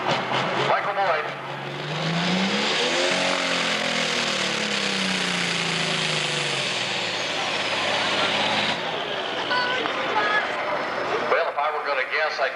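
A pro stock pulling tractor at an NTPA Grand National tractor pull in Georgetown, Ohio, roars loudly and steadily for most of the span, its pitch rising under an announcer's talk before the engine cuts off abruptly near the end.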